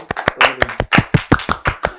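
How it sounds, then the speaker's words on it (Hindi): A small group claps in an unusual, uneven style during a casual studio chat, rapid close-up slaps landing in a fast, stuttering rhythm for about two seconds without talking. "खुद अपने लिए प्लीज ताली बजाओ"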